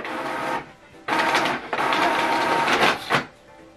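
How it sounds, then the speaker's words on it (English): An HP ENVY 4527 inkjet printer printing a status report, its mechanism whirring and clacking in close, loud bursts with brief pauses between passes. "If you select printer status, right now it will be printing the printer status."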